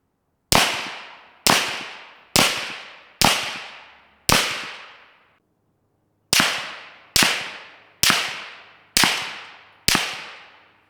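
Rifle shots fired through an Omega 36M suppressor crack sharply, loud and close, in two quick evenly spaced strings of five with a brief pause between them, each cut off by a short decay.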